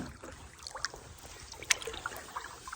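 A canoe paddled through a swamp gives soft dips and light splashes of the paddle, with small drips and a brief sharper knock, faint and close, with no talking.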